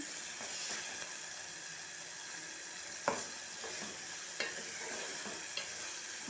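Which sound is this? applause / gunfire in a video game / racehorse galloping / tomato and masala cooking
tomato and masala cooking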